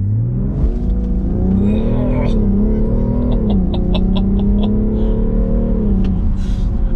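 A 2021 BMW M340d Touring diesel launches hard under launch control, its engine note climbing through gears in loud, close, rising sweeps with brief dips at each shift.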